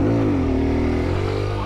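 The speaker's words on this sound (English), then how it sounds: "That one was all throttle chop." Kawasaki Z125 Pro motorcycle engine during a wheelie attempt, a loud steady buzzing note that dips slightly as the throttle is chopped, close and continuous with no talk.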